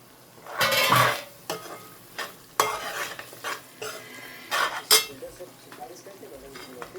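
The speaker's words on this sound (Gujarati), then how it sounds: "ચાલો આપણે એકવાર મસાલોને મિક્સ કરી લઈએ" Fenugreek greens cooking with masala in a pan, stirred with a spoon: close, irregular bursts of scraping and clinking over a light sizzle, with quieter gaps between stirs.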